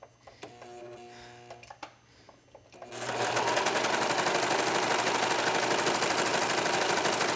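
A few faint clicks and hums give way to a domestic sewing machine stitching the side seam of a tank top, a steady, loud, continuous motor whir that runs without pause to the end.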